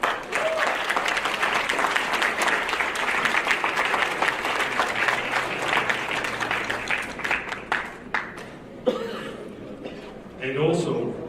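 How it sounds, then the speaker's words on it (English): An audience at a farewell event in Los Angeles breaks into sustained applause, loud and dense at first, then thinning into scattered claps before a speaker resumes talking. "And please, a round of applause to my colleague."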